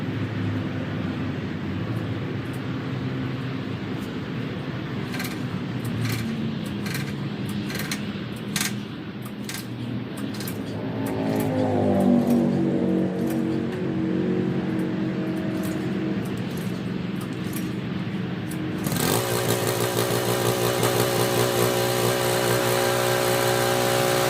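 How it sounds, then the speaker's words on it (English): A Honda power washer engine with fresh motor and pump oil takes repeated cord pulls, each a brief rasp, before it catches near the end and settles into a loud, steady running drone close by. "let's see how many pulls it's going to take to get this thing started"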